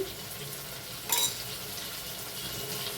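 Tomato goes into a hot pan for a vegetarian dish of Govindabhog rice and cauliflower. It gives a soft, steady sizzle with one brief louder burst partway through.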